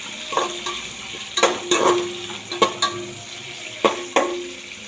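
Curry leaves and ingredients sauté in a pan for radish sambar, with a soft steady sizzle under irregular scrapes and taps of a spoon stirring against the metal.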